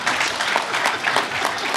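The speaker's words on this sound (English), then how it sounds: "A loud applause." Loud audience applause at a South East leadership debate, a dense, steady clapping from a crowd lasting about two seconds.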